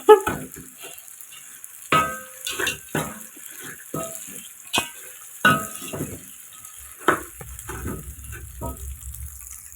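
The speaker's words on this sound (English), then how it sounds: "So let them fry." Small omena sardines wet-fry in a pan with a continuous sizzle, broken by repeated stirring scrapes and clinks of a utensil against the pan.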